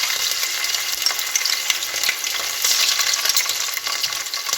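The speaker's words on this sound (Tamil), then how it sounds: "இஞ்சி பூண்டு பேஸ்ட்டை பச்சை வாசம் போகிற வரைக்கும் நல்லா வதக்கி" Ginger garlic paste sizzles steadily and loudly in hot oil for prawn biryani, with occasional scraping from stirring and no voices.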